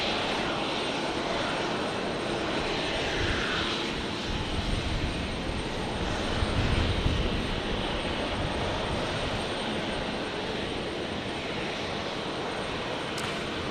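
A Virgin Australia Boeing 737-700 lands on runway 19 left at Brisbane, arriving from Perth. Its jet engine roar is a broad, steady rumble heard from a distance, swelling slightly midway and then holding level.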